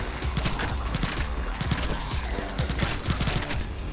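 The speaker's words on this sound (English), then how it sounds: "We just got a machine gun" Rapid automatic gunfire from a machine gun in the video game PathogenX, loud bursts of shots running densely through the whole stretch with clattering echoes.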